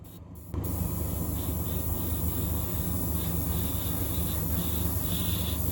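A Mobius 0.3 mm spray gun run at about 18 to 20 psi lays a light coat of paint on 3D-printed resin parts for a 572 big block, its close, steady airy hiss starting abruptly and holding level.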